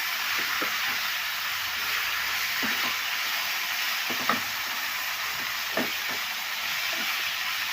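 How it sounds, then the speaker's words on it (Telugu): Fenugreek leaves frying in a pan as they are stirred, a steady close hiss with a few soft scrapes and clicks from the spoon. "మెంతి కూర అయితే చక్కగా వేగిపోయింది."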